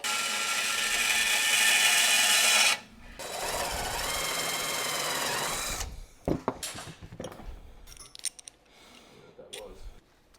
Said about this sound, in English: I'll go cut some brackets.